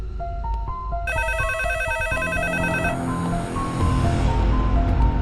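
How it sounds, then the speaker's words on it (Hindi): An electronic phone ringtone trills in a repeating melodic pattern, fairly loud, over a steady rushing background noise. "अरे कौन है जो बार-बार फोन कर रहा है और बोल भी नहीं रहा है?"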